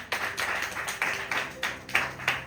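A church congregation claps together in a slow, even rhythm, about eight distinct beats in a row, moderately close and fairly soft, with no talk over them.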